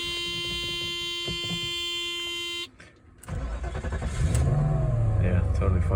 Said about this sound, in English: I'm also curious with that weird startup earlier, what the car is going to start up like right now.